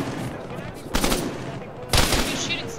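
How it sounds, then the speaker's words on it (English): Gunfire in the military shooter Arma 3 comes as two sharp bursts about a second apart, each trailing into a rolling echo over a steady background hum. "He's shooting something."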